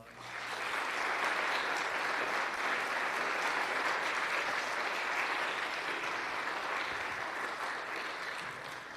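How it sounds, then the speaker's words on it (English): Students in a school awards ceremony audience applaud the parents, a dense, sustained round of clapping that rises quickly and holds steady for about nine seconds, with no talking over it. "Students, could you please join me in giving the parents a round of applause?"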